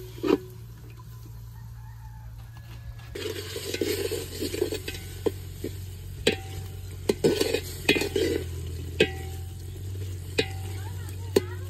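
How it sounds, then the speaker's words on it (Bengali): Prawns stir-fry in a pan in a village home kitchen, with a soft sizzle and sharp spatula scrapes and clinks that come at irregular moments over a steady low hum, and crowing and other fowl sounds faintly in the background. "চিংড়ি মাছটা হালকা একটু কষে নিমু"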